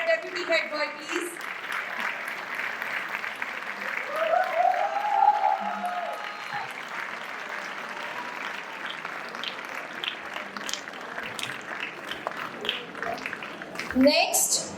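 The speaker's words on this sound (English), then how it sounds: "A huge round of applause for our deputy head boy, please." A school awards ceremony audience applauds the deputy head boy, sustained moderate clapping from a hall crowd with some cheering, fairly even and somewhat distant.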